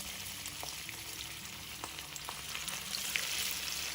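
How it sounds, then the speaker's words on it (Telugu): Onion vadas deep-fry in hot oil, giving a dense, even crackling sizzle with tiny pops scattered throughout, steady and close, with no speech. "ఆయిల్ బాగా వేడయ్యాక మనం తయారు చేసుకునే ఈ వడల్ని దీనిలో వేసుకోవాలి"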